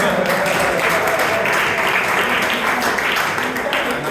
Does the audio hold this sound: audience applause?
yes